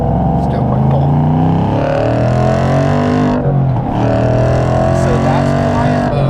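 A Ford Mustang Dark Horse with an AWE 3-inch active exhaust set to quiet mode makes a full-throttle pull. The engine drone rises steadily in pitch, shifts once partway through, then climbs again, loud and sustained.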